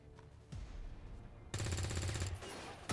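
Gunfire aimed at a turret in XCOM 2, a short burst of shots followed by a louder, sustained rattling volley of automatic fire.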